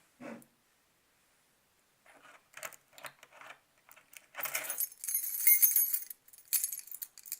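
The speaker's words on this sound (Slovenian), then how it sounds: "To so pa ključi moje hiše." A bunch of house keys jingles close by with light metallic clinks, first in scattered short bursts and then in a longer, brighter rattling shake, against near silence.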